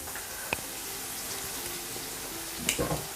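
A steady, close sizzle of spices frying in hot oil in a pot for jollof rice, with a few light clinks and taps of utensils against the pot.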